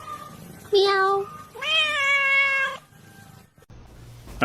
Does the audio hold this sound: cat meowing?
yes